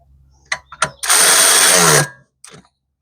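A bolt on the alternator bracket of a 2003–2006 Subaru Baja is tightened with a power tool in one loud, steady whir of about a second, with a few short clicks and knocks before and after.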